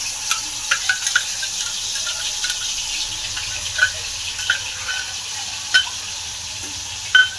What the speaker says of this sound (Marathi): आता कांदा टाकून घेते.